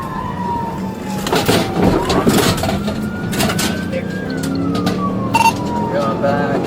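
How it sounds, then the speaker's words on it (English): A police siren wails with slow rising and falling pitch, loud and near, over rumbling traffic and scattered voices. "Dust clouded the air, sirens blared"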